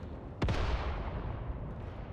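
A single sharp boom of infantry mortar fire in the WW2 video game Mius Front, a sudden thump that rolls off into a fading rumble, moderately distant, with no talk.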